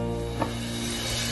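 Onions frying in a pot for chicken tikka biryani, a low steady sizzle with a brief stirring scrape near the start.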